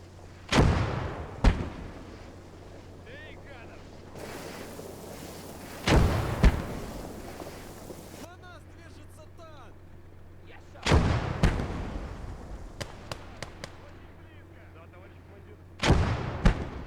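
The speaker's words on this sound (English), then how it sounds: "We have the 4-barrel 50 cal doing its thing." Artillery and a four-barrel .50 cal firing in the Call to Arms: Gate of Hell war game, with several heavy booming shots spread apart, each with a rumbling tail, and someone talking faintly in places.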